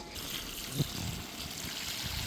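Water pours into a pot of chicken chukka as it cooks, a steady trickling and splashing that runs close and continuous with no talking.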